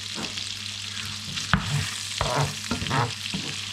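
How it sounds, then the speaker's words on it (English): Prawns sizzle in a hot pan, with a few scraping stirs and clinks of a utensil breaking through the steady frying hiss. "you flash them in the frying pan"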